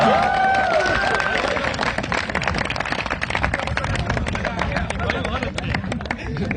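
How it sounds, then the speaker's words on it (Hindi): At a humorous Hindi poetry gathering during an IIT festival, the crowd applauds the poet Kartikeya Shukla with a continuous, loud roar of clapping that is mixed with crowd noise and voices throughout. "एक जोरदार तालियां कार्तिकेय शुक्ला के लिए।"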